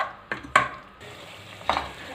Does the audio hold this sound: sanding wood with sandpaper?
no